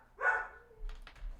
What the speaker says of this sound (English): My dog is losing her mind.